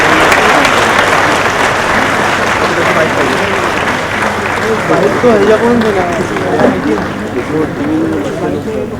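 Sustained crowd applause fills a hall at an awards ceremony honoring real-life heroes, a dense continuous roar of many hands, loud and steady, with a voice speaking over it.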